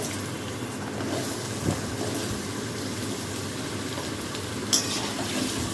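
Potatoes are stirred and fried in a pan with fenugreek-seasoned oil for a Bengali chapor sukto, giving a steady broadband sizzle with occasional utensil scrapes and clinks, close and continuous throughout.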